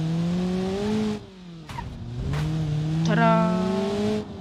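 A red city car in the BeamNG driving game, its engine revving up and down through gear changes with a squeal of tires, close and loud, with someone talking over it.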